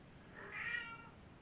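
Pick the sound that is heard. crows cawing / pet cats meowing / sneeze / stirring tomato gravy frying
pet cats meowing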